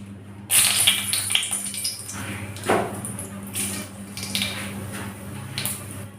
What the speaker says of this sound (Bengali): এবার এই তেলে দিয়ে দেবো একটা শুকনো লঙ্কা ও সর্ষে ফোড়ন